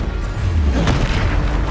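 A Bombarda spell blast goes off in Hogwarts Legacy as a single deep, booming explosion, loud and close, with a short rumbling tail.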